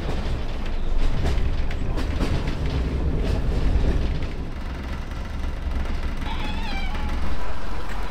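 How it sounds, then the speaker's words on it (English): An old train built in 1958 rattles along with rhythmic clacking and a deep rumble, swelling and fading, with a brief high squeal near the end. "But it's still a nice old train."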